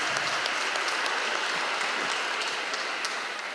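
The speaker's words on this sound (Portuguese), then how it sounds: "Glauber, palmas." An audience at an evening debate about Marighella and resistance to the military dictatorship claps in a thick, even wash of applause that carries on throughout.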